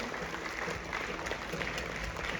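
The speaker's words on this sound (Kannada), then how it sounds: "ಮನೆಗೆ ಬಂದಿರುವಂತಹ ಎಲ್ಲ ಅತಿಥಿಗಳಿಗೋಸ್ಕರ ಒಂದು ಜೋರಾದ ಚಪ್ಪಾಳೆ" Audience at a stage performance breaks into loud, sustained applause, dense clapping filling the space evenly throughout.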